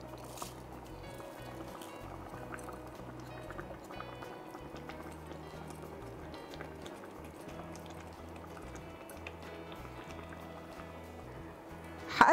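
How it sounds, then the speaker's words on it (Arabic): Quiet bubbling of broth and rice simmering in a pot for chicken kabsa, a soft steady gurgle close by with a brief louder clatter at the very end. "وقلبه كويس وسيبه يغلي لمدة دقيقتين أو ثلاثة."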